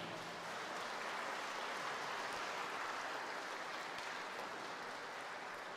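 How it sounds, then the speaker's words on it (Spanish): An audience applauds steadily, heard faint and distant as a continuous rush of many hands clapping. It holds even for nearly six seconds with no voices on top. "Vamos a darle un fuerte aplauso al Padre Hidalgo"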